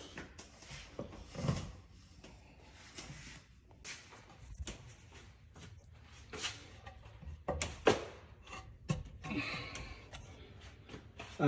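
Pull-down attic stairs being folded up and the attic door closed, a string of scattered wooden creaks, clunks and knocks at low level, irregular and close.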